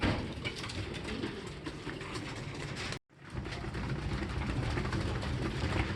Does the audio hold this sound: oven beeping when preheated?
no